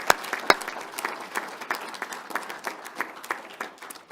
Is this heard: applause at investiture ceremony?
yes